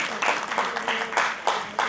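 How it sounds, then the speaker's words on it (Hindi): An audience at a women's astrology conference in Bhopal claps in rhythmic bursts, several quick surges of applause close to the microphone. "जोरदार तालियां"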